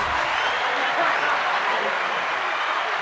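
A crowd applauds steadily at a live evening event, a dense wash of many hands clapping that holds loud and even throughout with no pauses.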